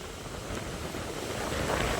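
Sea waves wash steadily around a beach cottage fence where the water has reached the hut, a broad continuous surf rush with wind buffeting the microphone, building slightly louder toward the end, no voices.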